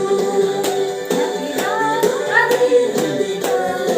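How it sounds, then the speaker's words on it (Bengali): Several people clap their hands together at a birthday celebration, a loose run of quick close claps repeating in bursts over a few seconds, with faint voices behind. "সবাই হাততালি দাও"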